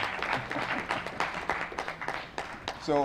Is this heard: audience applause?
yes